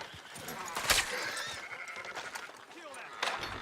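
Sheep bleat in Red Dead Redemption 2 amid game ambience, with a sharp bleat near the start and another toward the end; someone talks over the scene.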